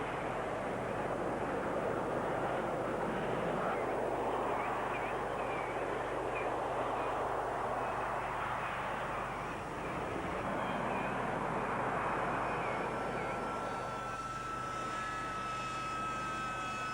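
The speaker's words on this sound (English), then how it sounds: "that display by the Harriers concludes the show" Harrier jets roar continuously during a flying display at the Royal International Air Tattoo 1996 at Fairford, a loud broadband engine noise with wind buffeting, and a shifting whine emerging near the end.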